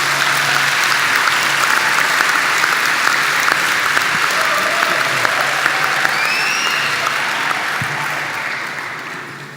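A crowd at a social forum event applauds loudly and continuously, dense clapping near and full that begins to fade slightly toward the end.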